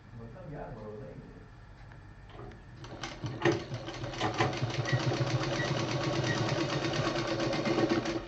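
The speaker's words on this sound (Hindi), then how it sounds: "इसको हम ऐसे पकड़ के यहाँ पे सिलाई मार देंगे" A sewing machine stitches a fabric hanging pouch, starting after a brief pause and then running as a fast, steady mechanical clatter, close and fairly loud, with a voice talking over it.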